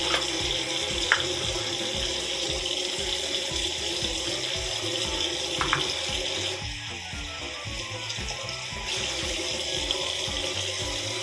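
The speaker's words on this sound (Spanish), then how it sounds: "Vamos a abrir el agua caliente." Hot water runs steadily from a household tap, a continuous splashing hiss with a faint rhythmic gurgle underneath, close and moderately loud, with no speech.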